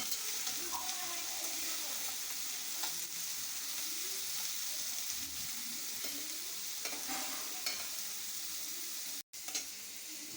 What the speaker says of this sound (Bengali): এবার পেঁয়াজ কুচিগুলো দিয়ে দিলাম, দিয়ে খুব ভালোভাবে পেঁয়াজ কুচিগুলো ভাজা ভাজা করে নেব।